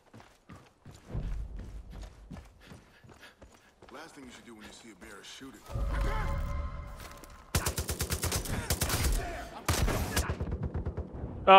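Heavy machine gun fire in the game Far Cry 5 breaks out after scattered single shots, a loud sustained rapid rattle near the end, with game sounds around it.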